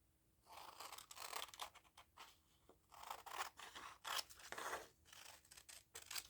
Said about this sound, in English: So just going to trim along the tops of some of these and the bottoms.